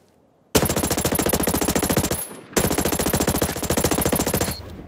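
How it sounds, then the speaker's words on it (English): Two long bursts of rapid automatic gunfire in Ghost Recon Breakpoint, loud and close with a brief gap between them, no talk. "I'm taking incoming rounds."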